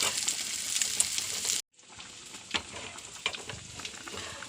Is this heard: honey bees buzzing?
no